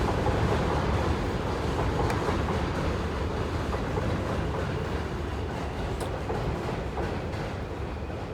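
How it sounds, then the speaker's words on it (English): A train rumbles past close by, loud and continuous, with a rhythmic clatter of wheels on rails throughout. "see how the train's gonna interrupt me"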